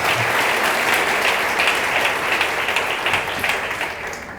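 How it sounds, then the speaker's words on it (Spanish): A church congregation applauds the pastor's wife, sister Rose, a dense, continuous clapping of many hands at steady strength that eases off toward the end, with no speech over it. "Le damos un aplauso a la bendita esposa"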